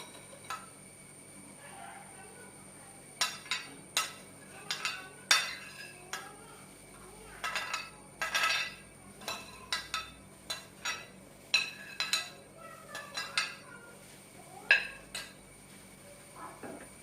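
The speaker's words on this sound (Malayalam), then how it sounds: "അതിനുശേഷം നമുക്കൊന്ന് ഇളക്കി കൊടുക്കാം." Utensil stirring ingredients in a pan while cooking a Spanish omelette: irregular clinks and scrapes of metal against the pan, some in quick clusters, fairly close over a quiet kitchen background.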